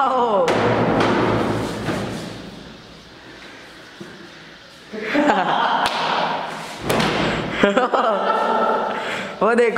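A blindfolded player strikes the floor during a blind-man beating challenge game, giving several loud thuds and slams amid lively talk, laughter and shouting from people nearby.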